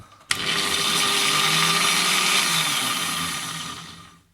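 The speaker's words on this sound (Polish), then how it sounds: "szlifierka" A high-pitched Parkside PWS 125 D3 angle grinder, just repaired, whines steadily after switching on abruptly, holding a loud, dense spinning roar before slowly winding down toward the end.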